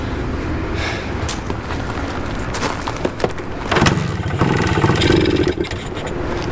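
A 1981 Suzuki TS 250 motorcycle engine sputters and coughs, briefly catching and revving before faltering again, with an uneven, struggling rumble throughout.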